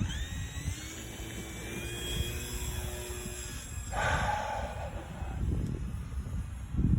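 Electric motor of an E-flite Air Tractor 1.5m RC airplane at takeoff: a high whine that rises in pitch and then holds steady, heard from a distance over outdoor background noise.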